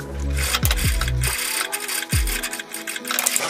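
Home sewing machine running a ribbed topstitch down a blouse placket with a backstitch: close, whirring mechanical stitching in short runs with brief pauses, punctuated by low motor thumps as it starts and stops.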